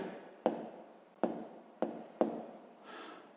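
Pen on paper writing out a math solution for a sixth-grade exercise, four quiet scratchy strokes in an irregular rhythm with a softer rub at the end, close and alone.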